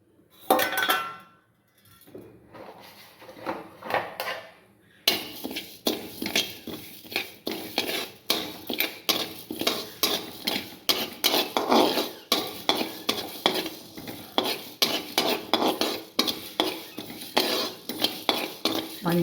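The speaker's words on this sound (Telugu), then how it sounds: "సో ఇవన్నీ మనం డ్రై రోస్ట్ చేసుకుందాం." Spices including fenugreek and urad dal dry-roasted in a hot pan, stirred with a metal spoon in steady scraping, rattling strokes that clink against the pan, close and continuous after a quieter start.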